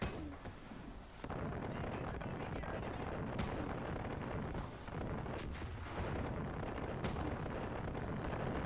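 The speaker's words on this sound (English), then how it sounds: "I'm just gonna start launching barrages of mortar" Mortar barrages rumble and explode in the video game Far Cry 5, a dense continuous roar of blasts with several sharper impacts standing out at intervals, fairly distant and steady throughout.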